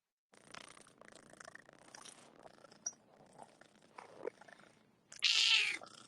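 A cat purrs close by with a soft, continuous rumble, then lets out a short, louder, higher-pitched sound near the end.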